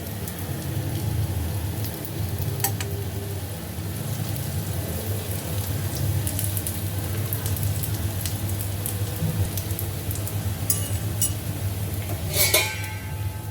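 Urad and ragi appe sizzle in oil in an appe pan, a steady close crackling hiss with faint clinks of a utensil against the pan, no speech.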